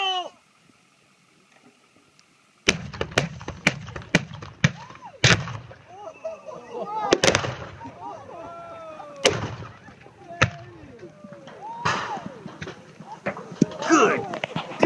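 Explosive charges detonate against a Liberty gun safe outdoors during a 2013 torture test, a rapid series of sharp, loud blasts and cracks with rumbling debris between them, people shouting and talking throughout.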